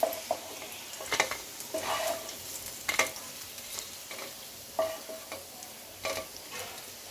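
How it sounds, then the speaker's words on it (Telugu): Pieces of fish fry in hot oil in a pan, giving a soft steady sizzle broken by occasional scraping and stirring clinks of a utensil, with no speech. "చూడండి రెండు వైపులా చక్కగా మంచిగా ఫ్రై అయినాయి."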